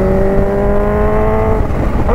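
A Kawasaki H2 motorcycle engine revs hard, a loud, sharp, aggressive high-pitched whine holding steady and rising slightly, close by and alone without voices.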